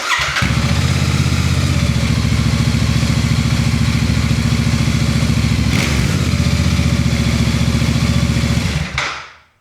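A Royal Enfield Bear 650 motorcycle idles with a Rhino exhaust run without its baffle, a loud steady throbbing burble heard from a few feet behind and to the side, running continuously before shutting off at the end.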